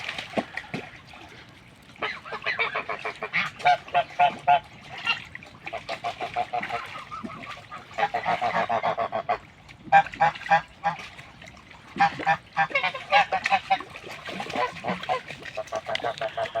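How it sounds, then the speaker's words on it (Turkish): Geese honk repeatedly in loud, overlapping bursts, a noisy flock calling close by with brief pauses between the volleys. "kazın bir diğer adı da su kuşu"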